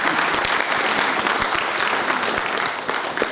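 A church congregation applauds: dense, steady clapping from many hands throughout, loud and continuous with no pauses.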